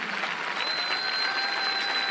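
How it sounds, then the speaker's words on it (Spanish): A congregation at a Christian worship service applauding, a dense even wash of clapping from many hands held steady for a couple of seconds, with faint sustained musical tones beneath. "Aplauso más fuerte"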